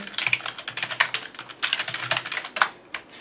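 Rapid typing on a computer keyboard while working in a spreadsheet, a steady close run of crisp key clicks with small pauses between bursts.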